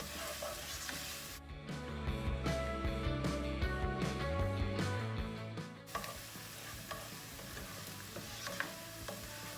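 Garlic, ginger, jalapenos and sliced onions sauteing in a pan, a steady close sizzle with scraping stirs and utensil clicks throughout; a loud background layer cuts out midway, leaving the frying alone.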